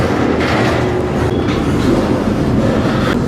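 A freight train rumbles and rattles slowly through a rail yard close by, a steady heavy clatter with faint metallic squeals.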